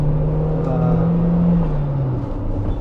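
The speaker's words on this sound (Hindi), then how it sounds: "इंजन नोट सुन पा रहे होंगे आप" A Tata Sierra engine hums steadily while driving, a low smooth drone heard from inside the cabin, with a gently shifting tone and no talking.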